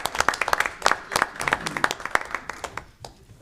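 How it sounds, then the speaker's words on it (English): A room at a school board of education meeting breaks into a short round of applause, with dense overlapping hand claps that swell and then taper off over a few seconds. "I want a chance to clap for us."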